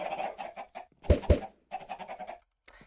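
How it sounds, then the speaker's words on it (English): Chickens clucking in Minecraft, with two loud, close squawks standing out from a run of quicker, softer clucks before and after, and nobody talking. "He has too many chickens."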